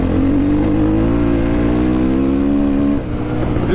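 A MOTOPRO 300 motorcycle engine pulling hard, a loud, close, steadily climbing drone that drops off abruptly near the end.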